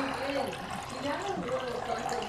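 A child splashes and plays with running water, making a small swimming pool indoors; steady trickling and splashing sits under faint nearby voices.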